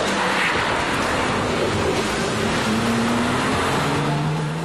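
A Porsche GT2 sports car runs flat out along a straight, its engine a loud, sustained roar with a steady rising tone that carries through the whole stretch, with no voices over it.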